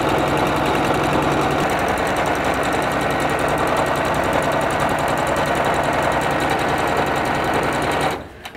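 A sewing machine runs a steady, continuous stitch along a pillowcase seam, the fast mechanical chatter close and unbroken for about eight seconds before stopping abruptly.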